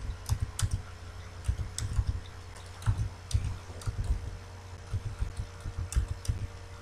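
A URL being typed on a computer keyboard, heard as quick, uneven clusters of close key clicks with brief pauses between words, over a faint fan hum.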